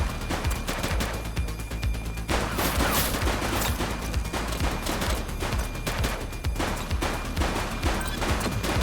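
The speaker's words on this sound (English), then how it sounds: "Light them up! He's shooting!" Sustained gunfight in The Precinct video game, with dense rapid gunfire and bursts of shots cracking continuously across the whole stretch, loud and close, with no talk over it.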